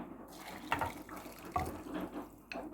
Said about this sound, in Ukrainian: Просто гарячою, гарячою водою заливаю